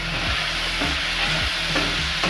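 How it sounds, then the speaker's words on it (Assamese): Turmeric powder is stir-fried in a pan for a fish curry. It gives a close, continuous sizzle with a repeated rhythmic scrape of the spatula about every half second, and nobody speaks. "হালধিখিনি অকণমান দি ভাজিব লাগিব"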